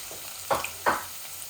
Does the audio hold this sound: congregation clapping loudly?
no